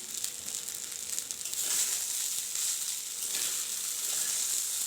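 Soya chow stir-fried with salt in a pan gives a steady, faint hiss of sizzling with soft stirring sweeps, close by and without speech.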